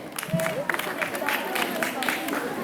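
Audience applause at a commemoration event for Lokmanya Tilak's death anniversary and Annabhau Sathe's birth anniversary, a steady wash of clapping from a crowd with scattered voices and murmur mixed in.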